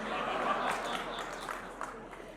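An audience claps hands at a poetry recital. The clapping is faint and scattered, and voices are heard over it.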